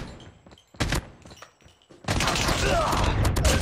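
AK47 gunfire in the mobile game Call of Duty Mobile erupts into a dense, sustained burst of rapid shots after a brief stretch of quieter game sounds and a single thump.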